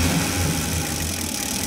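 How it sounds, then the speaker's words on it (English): A car engine idling at close range, under inspection for trouble code P2270, rises briefly as the throttle is snapped, a steady mid-pitched hum with no talk. "I'm gonna give it a snap throttle"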